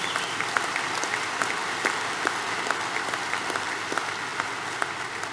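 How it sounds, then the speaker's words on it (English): A crowd applauds at an NRA annual meeting, steady dense clapping from a large audience in a hall, even in level throughout with individual claps popping out near the front. "give them a round of applause."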